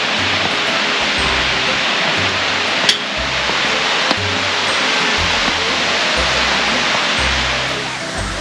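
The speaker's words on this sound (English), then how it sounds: "The waterfalls. Look at that" Cherokee Falls in Cloudland Canyon pours out a steady broadband rush of falling water, loud and continuous, with a low intermittent rumble and a couple of faint clicks underneath.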